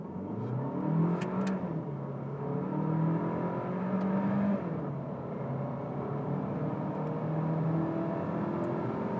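A 2021 Renault Arkana TCe 140 RS Line with a dual-clutch transmission launches hard from a standstill, its engine whirring and climbing in pitch through several upshifts, heard from inside the cabin at a moderate, steady level without talk.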